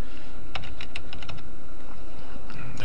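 Fingers tap a computer keyboard in a quick burst of clicky keystrokes entering a username and password, close but partly buried under a loud, constant background hum.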